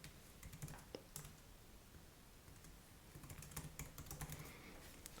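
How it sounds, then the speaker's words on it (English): Quiet, close clicking of keys as an email address is typed on a Mac keyboard, in irregular runs of taps with brief pauses and no voices. "So I'll go ahead and type my email."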